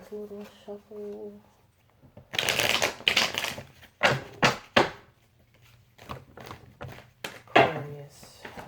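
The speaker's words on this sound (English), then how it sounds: "one last little shuffle" A deck of tarot cards gets a brisk shuffle, sharp riffling bursts and papery slaps coming close and in quick clusters, with a voice briefly heard at the start.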